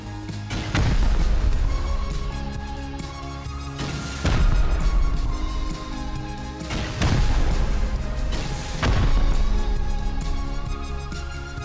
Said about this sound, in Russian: мы полетели взрывать клановую базу